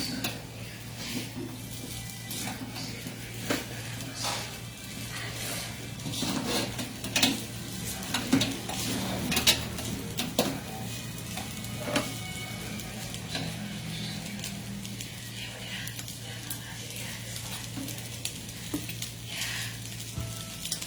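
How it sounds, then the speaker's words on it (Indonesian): Nasi goreng (fried rice) fries in a pan in a Bali home kitchen, with a continuous sizzle under repeated scraping and stirring clatters of a utensil against the pan, close and steady throughout. "aku buat nasi goreng"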